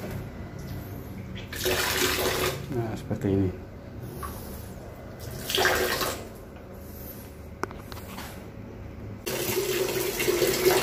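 Water gushing from a tap in several bursts, starting and stopping, while installing a Pureit Marvella UV water purifier, with a person speaking briefly between the runs.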